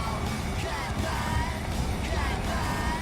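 Strong wind buffets an outdoor microphone beside a van being built out, a continuous loud rumble and roar filling the whole stretch with no clear speech.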